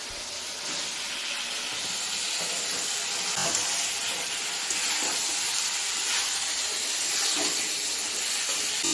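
Potatoes and pointed gourd fry in hot oil with spice paste, giving a continuous, moderately loud sizzle with occasional spatula scrapes and stirring, without any speech.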